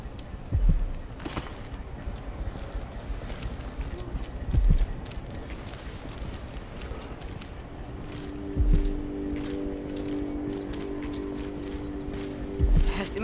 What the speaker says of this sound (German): Schritte, ne?